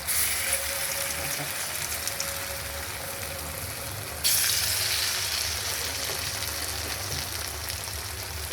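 Lentil fritters (dal bora) frying in hot oil, a steady broadband sizzle that continues throughout and grows louder partway through, close up with no talk.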